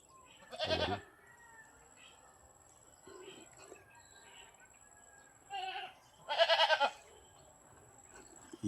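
Goats bleat loudly a few times, close by, separated by quieter stretches of faint farmyard background.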